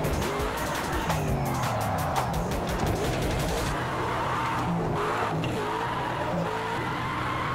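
A Ford Mustang RTR in the racing game Project Cars 2 skids off the track, its engine roaring and tires squealing loudly before the sound drops to a rougher rumble and scraping, with no voices.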